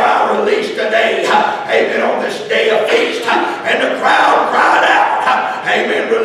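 A loud crowd cries out together, many voices shouting at once in a steady, rolling roar that swells and dips over several seconds.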